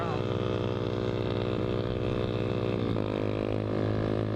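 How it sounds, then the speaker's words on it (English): A Honda Grom motorcycle with a loud exhaust drones steadily at idle with a low, rumbling exhaust note, close by; the pitch dips slightly near the end. "his exhaust is loud as hell"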